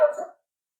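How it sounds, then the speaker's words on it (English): One short dog bark, loud and close, cutting off abruptly into silence. "that's the dog"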